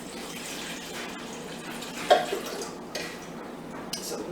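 Warm water runs into a mixing bowl holding yeast for homemade vegan bread, a soft steady trickle with a few light clinks of the bowl.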